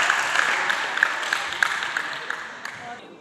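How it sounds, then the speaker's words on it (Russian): A crowd at a wrestling section event applauds a freestyle wrestling world champion, a dense wash of clapping that starts strong and gradually fades away. "Ваши аплодисменты."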